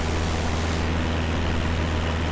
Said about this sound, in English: Did you hear like an engine? I heard like an engine.